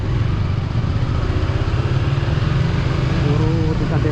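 Motorcycles ride along a road in Taiwan, a steady, continuous engine drone close by with a low rumble that holds at an even level throughout, while someone talks over it.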